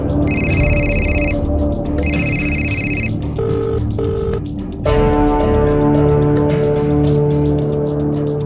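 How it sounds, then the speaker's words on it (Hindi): A telephone rings unanswered in a crime drama scene: two loud electronic ring bursts, then a lower, softer pair of tones, followed by a continuous ringing tone, all close and with no one speaking. "आखिर फोन क्यों नहीं उठा रही है?"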